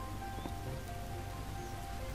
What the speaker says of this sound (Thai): ฝนอีกแล้ว